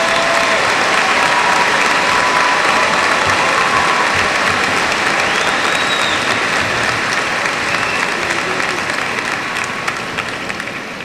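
A large high school graduation crowd applauding loudly, a dense, continuous roar of clapping that holds steady for about eleven seconds before easing slightly at the end.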